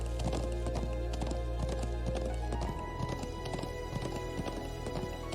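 Hooves clop in a fast, steady galloping rhythm over a low background drone, with brief horse snorts, in the video game Trails of Cold Steel.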